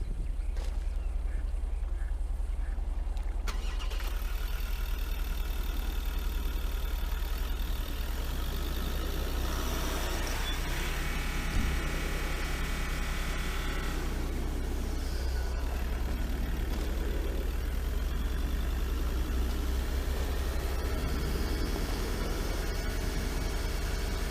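A 2019 Ford Endeavour Titanium+ 4WD with its 3.2-litre TDCi turbo-diesel common-rail engine runs steadily, a continuous low rumble with a broad hiss above it, close and even throughout, with no talk.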